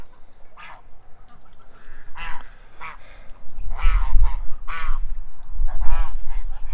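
Ducks quack repeatedly at close range in loud, nasal calls, with a low rumble of wind or handling noise underneath and no talk.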